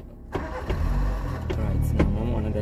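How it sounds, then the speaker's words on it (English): A car engine turns over and catches, then settles into a steady idle with a few sharp clunks over it, close by in a car being used for clutch-control driving practice. "Start the car"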